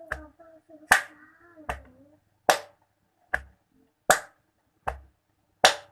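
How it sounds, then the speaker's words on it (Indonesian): Scouts pat their chests and clap their hands in a slow, even rhythm, about eight sharp, separate smacks spaced roughly a second apart. A voice speaks briefly at the start, and the room is quiet between hits. "kita tepuk dada satu kali. Ya, dada sebelah kiri. Kemudian tepuk tangan satu kali."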